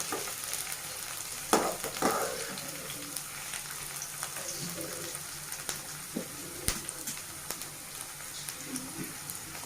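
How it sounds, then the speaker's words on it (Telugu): Onions frying in a pan for bitter gourd fry, a steady close sizzle with occasional stirring scrapes and soft clinks. "ఆనియన్ మగ్గలు కావాలండి, ఒక 1 మినిట్ పెట్టేసుకుందాం"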